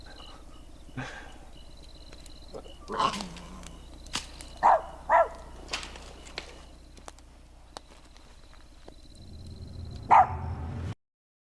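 Scattered sharp barks and yips of dogs fighting ring out at a distance while camping, some clustered together, over a steady background of chirping insects at night.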